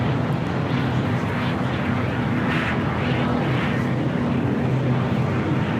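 A jet airplane at LAX airport roars steadily during a takeoff on runway 24 right, a loud, sustained rumble with a broad engine hiss, heard without voices.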